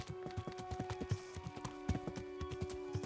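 Hooves of a horse in Kingdom Come: Deliverance clip-clopping in a quick, steady trotting rhythm, each footfall a distinct soft thud over a low ambient drone, fairly quiet and without talk.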